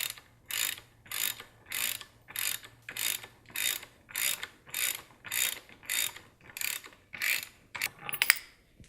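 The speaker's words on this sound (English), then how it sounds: "now that we cracked this loose, we can actually just finish taking this bolt out" Hand ratchet backing out the dogbone (pendulum) mount bolt on a Mk7 Volkswagen, a steady run of about fourteen crisp clicking bursts, close and alone.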